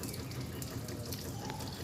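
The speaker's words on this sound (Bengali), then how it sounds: "গাড়ি ধৌত করছে।" Water gushes continuously while a car is being washed outdoors, a steady close splashing rush with faint background noise and no talk.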